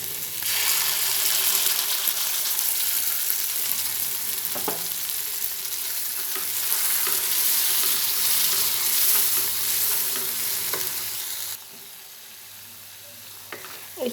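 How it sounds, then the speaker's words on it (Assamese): Green peas sizzle and fry in butter in a pan while being stirred, a steady close crackle with occasional scrape and clink of the spoon; the sizzle drops quieter near the end. "মটৰখিনি মোৰ এনেকৈ অলপমান ভাজিলে"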